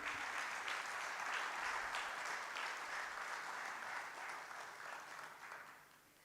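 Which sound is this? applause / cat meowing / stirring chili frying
applause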